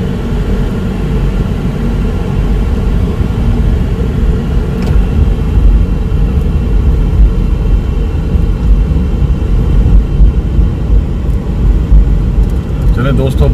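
Heavy road traffic on a congested city street forms a loud, steady rumble of engines that carries on without letup for the whole stretch.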